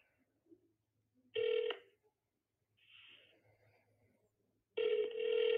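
A phone rings with an incoming call, two loud electronic ring bursts separated by a quiet gap with faint background noise, heard alone and nearby.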